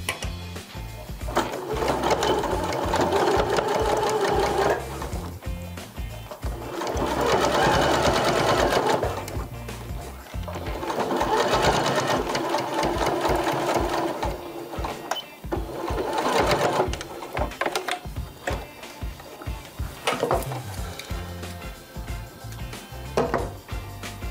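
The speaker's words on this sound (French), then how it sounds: "Maintenant, on va coudre dans la rainure du biais." Sewing machine stitching in the groove of bias binding on a quilted fabric toiletry bag, running in long loud bursts separated by brief pauses and short runs.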